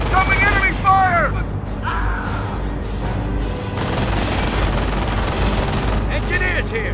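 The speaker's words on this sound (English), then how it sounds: "Incoming enemy fire!" Battlefield gunfire from the Company of Heroes Normandy campaign (Saint-Lô mission) forms a dense, continuous clatter of shots and booms under radio-style voices and unit chatter.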